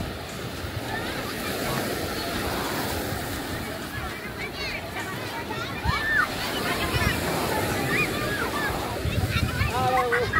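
Surf washes in steadily at a beach in Alleppey, Kerala, where people are swimming in the sea, a continuous broad wash with wind buffeting the microphone and voices and shouts mixed in.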